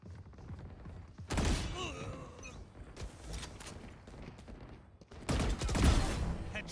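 Burst-mode gunfire in a shooter game, short loud clusters of rapid shots arriving in separated bursts with quieter gaps and thuds between them.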